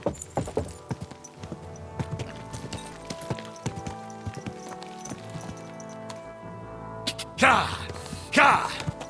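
Hoof clip-clops from a horse in Kingdom Come: Deliverance II, rhythmic and steady, mixed with game music and sound effects, with a couple of louder bursts near the end.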